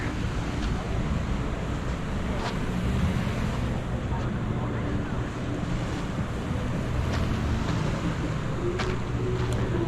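Ocean surf and gusting wind at the Kapahulu groin jetty in Waikiki, Honolulu, a steady loud wash of breaking waves blended with microphone wind rumble, continuous and close throughout.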